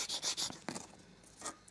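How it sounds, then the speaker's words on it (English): A fine sanding tool rasps over a small Lego minifigure in three quick, close strokes, then a softer scrape and one last short stroke after a pause. "now you get your other sanding tool, your fine one, to smooth things out."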